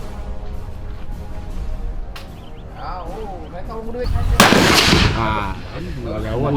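Gunshots at a sport shooting range in Ogan Ilir Regency, Indonesia, with a loud sharp blast standing out midway among duller reports, heard under steady talk from a nearby speaker.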